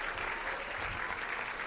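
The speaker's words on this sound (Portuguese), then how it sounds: "Pode aplaudir a Deus?" A church congregation applauds during a sermon, a brief, steady wash of clapping from many hands, even and continuous throughout.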